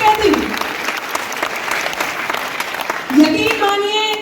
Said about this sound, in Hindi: ताली वाली आपको बजानी है